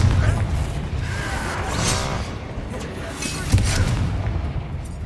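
A Confringo blasting curse explodes in Hogwarts Legacy with a broad rumbling boom, followed by a second thud amid ongoing combat noise, while a voice speaks over it.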